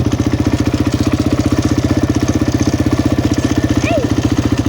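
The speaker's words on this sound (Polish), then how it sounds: "O, jedzie traktorem, nie?" A Bizon tractor engine runs out in a farm field, a loud, close, rhythmic chugging thump repeating steadily the whole time, with a brief faint whistle-like sound near the end.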